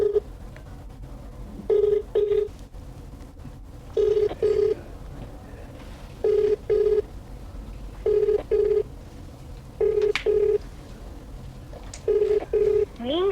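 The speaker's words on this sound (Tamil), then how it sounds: "அவரோட வீட்டுக்கார் வினோத்துக்கு தான் இப்போ நம்ம கால் பண்ண போகிறோம்" A phone call rings out: repeated paired ringback tones in a steady rhythm, each pair about two seconds apart, clear and close over a faint background.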